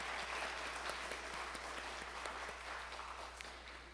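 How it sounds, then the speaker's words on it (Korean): A church congregation at a Christmas service applauds after the choir's Christmas cantata. The clapping is soft and distant, a steady crowded patter that continues for several seconds with no voices over it. "우리 다시 한번 감사의 박수, 영광의 박수 올려드리겠습니다"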